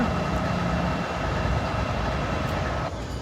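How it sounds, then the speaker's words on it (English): A train rolls past near an underpass, a loud, steady rumble with faint rhythmic clatter that continues throughout and eases slightly at the end. "Train moving when it gets a new crew."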